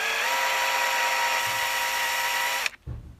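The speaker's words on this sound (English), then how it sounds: "Okay, I'm going to chamfer this hole a little bit." A power tool whirs at a steady high pitch while chamfering a hole in a metal latch piece for a box truck cabinet, running loud and continuous before cutting off abruptly, followed by a brief clunk.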